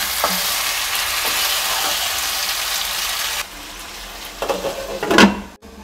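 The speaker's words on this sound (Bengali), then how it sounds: "আমি এই মাংসটা আস্তে আস্তে ঢাকনা দিয়ে কিন্তু ঢেকে ঢেকে রান্না করে নেব" Spiced chicken curry frying and being stirred in a pan, a steady broadband sizzle that drops in level partway through, followed by a few clinking scrapes of a utensil against the pan near the end.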